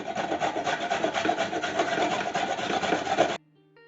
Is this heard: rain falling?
no